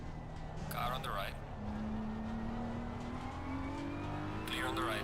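A race car sweeps past in Assetto Corsa during an eight-hour endurance race at the Hungaroring, its engine note climbing steadily and staying close and loud throughout, with a driver's voice over it.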